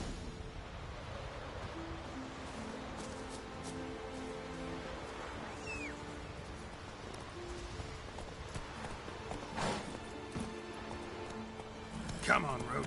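Geralt's horse Roach galloping in The Witcher 3, hooves clopping faintly and steadily beneath rain-like hiss and soft background music, with a few sharper thumps near the end.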